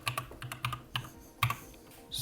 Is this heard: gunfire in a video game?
no